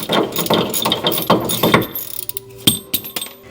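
A ratchet tool clicks rapidly and close while loosening a clamp on a Porsche Cayman axle boot, a dense run of mechanical pawl clicks that breaks into a few separate clicks near the end.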